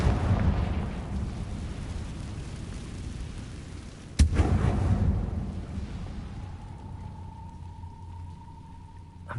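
A Confringo spell explodes in Hogwarts Legacy on PS4 with a sharp, loud blast partway through, followed by a rumbling roar that gradually fades over crackling debris, after which a thin sustained tone lingers.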